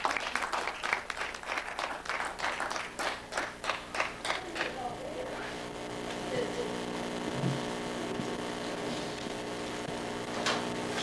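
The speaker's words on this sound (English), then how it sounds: "Let's give him a warm round of applause" A small audience claps in a rhythmic, fairly close patter to welcome a poet at a reading, then the applause fades into a quiet room with a steady electrical hum and faint voices.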